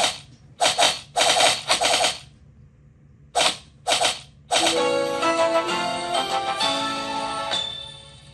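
Sniper gunfire in a video game: several sharp, loud shots in separate bursts with gaps between them, then a denser stretch of game action and music. Nobody talks.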